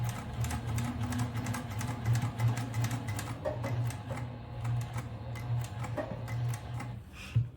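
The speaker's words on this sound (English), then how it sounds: "let's take it to the sewing machine so I can show you how this goes" A sewing machine stitches a 1 cm seam on a tote bag, a rapid even mechanical ticking and whirring that runs close and steady for several seconds before stopping near the end.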